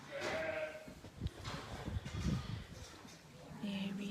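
Sheep bleating in a lambing shed on a farm during lambing season, several calls near and far, with people talking nearby.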